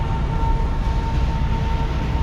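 A freight train rolls past on railway tracks in Cambodia, a steady, fairly loud low rumble with a faint sustained tone running through the whole stretch and no voices.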